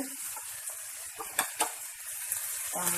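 Boiled beans and roasted plantain sautéing in a pan with dried red chillies, a steady close sizzle broken by a couple of louder stirring scrapes.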